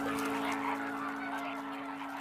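A flock of greater flamingos calls across a lagoon in the Po Delta, a dense, continuous goose-like honking and gabbling chorus, fairly loud and steady throughout with no voices.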